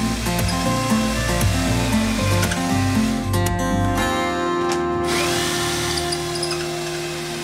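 A power drill fitted with an ordinary wood hole saw grinds through cement board, a loud continuous whine with shifting pitch that steadies and fades slightly toward the end, no talking.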